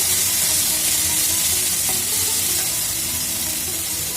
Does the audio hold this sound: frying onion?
yes